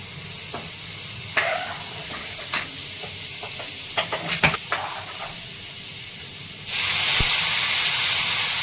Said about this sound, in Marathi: तर असे पाव भाजून घेते दोन्ही साईडने